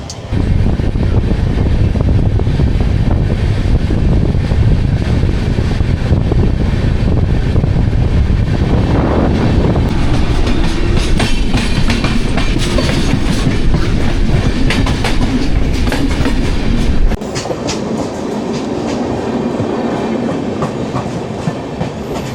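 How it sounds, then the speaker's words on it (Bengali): The Darjeeling Mail (12343) passenger train runs on its tracks after leaving Bardhaman station, heard as a loud, steady rumble with wheel clatter throughout that drops to a quieter rolling sound near the end. "বর্ধমান স্টেশন থেকে আমাদের এই ট্রেন ছেড়ে দিল"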